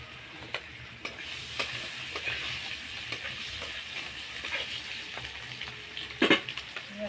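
Five-spice seeds frying in hot mustard oil in a home kitchen pan: a continuous close sizzle dotted with light stirring clicks, ending in a sharper burst of clatter and crackle.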